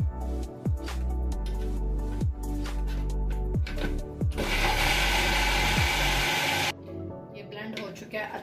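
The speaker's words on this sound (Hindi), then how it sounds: "अब मैं इसे ब्लेंड करूंगी।" A blender whirs through a raw mango drink in a sudden loud burst lasting about two seconds, after rhythmic clunking mechanical knocks and hums, with a voice speaking over parts of it.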